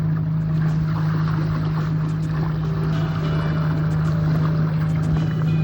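The motor on a hybrid fishing kayak drones steadily and loudly as it accelerates across the water, a constant close engine hum with water wash and no voices.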